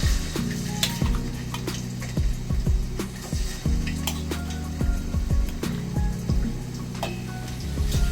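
Cleaned prawns frying in hot oil for a prawn pickle, with a bubbling sizzle under repeated clinks and scrapes of a utensil against the pan, close and busy throughout.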